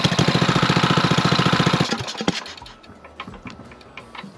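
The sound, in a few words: Coleman BT200X engine running while filing turning shaft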